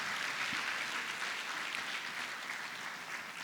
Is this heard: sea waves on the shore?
no